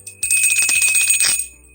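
A bright, ringing bell struck in a quick run of repeated dings that sustain briefly and then fade out, loud and close, with no talking.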